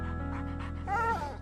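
A new puppy pants in quick, soft breaths and then lets out a short whiny yelp. The sounds are close and sit over a steady humming background, with no talk.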